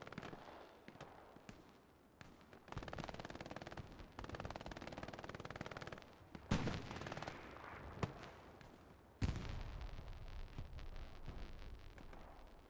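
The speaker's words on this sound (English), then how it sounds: "MG42 is just absolutely deadly in Hell Let Loose, and we're seeing it on display right now." MG42 machine gun in the video game Hell Let Loose, firing long rapid bursts amid dense gunfire of a competitive match, with loud rips and sharp cracks over a constant battle din.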